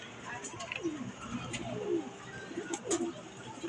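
Racing pigeons coo at the loft in a few soft, repeated low calls, with faint chirps and background murmur around them.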